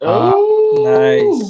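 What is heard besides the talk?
dog howling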